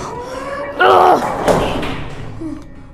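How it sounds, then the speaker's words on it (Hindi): A door slams shut in the horror video game Granny 3, a loud sharp thud with a brief rattle, preceded by faint game sounds and followed by softer knocks. "बंद कर दिया मैंने दरवाजा"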